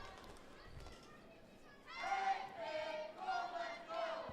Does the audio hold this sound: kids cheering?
yes